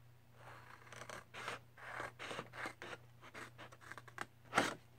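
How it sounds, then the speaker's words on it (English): Scissors cutting paper along score lines for policy envelopes, a string of close, quiet crisp snips and rustles in an irregular rhythm. "I'm going to turn this one around and cut it here as well"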